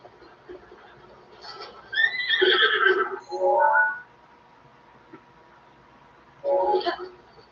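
A horse whinnies loudly and shrilly in The Legend of Zelda: Breath of the Wild, then a second shorter whinny follows a few seconds later against a quiet background.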